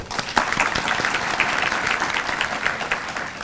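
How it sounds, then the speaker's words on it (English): An audience at a college induction ceremony gives a warm round of applause welcoming the campus director, a dense, continuous wash of clapping from many hands that stays loud and even throughout. "Let us welcome Dr. Pranati Tirak Ma'am with a warm round of applause."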